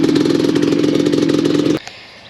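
A Suzuki LT250R ATV engine idles loudly and steadily up close with a buzzing, clattery two-stroke tone, then cuts out abruptly near the end, leaving near silence.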